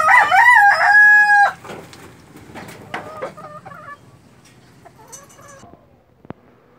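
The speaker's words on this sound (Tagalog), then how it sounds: "Ito ang ating mga manok." A backyard rooster crows loudly up close, then hens cluck and squawk in short bursts that fade into quieter scattered calls, ending with one sharp knock.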